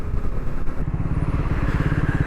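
A Triumph Scrambler 400X motorcycle being ridden on the road, its engine giving a loud, close, steady pulsing thrum with rapid rhythmic beats under wind noise.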